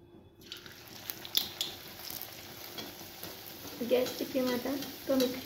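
Samosas fry in hot oil in a kadhai with a soft, crackling sizzle, while spoons and utensils clink and scrape nearby and a voice is heard briefly in the background.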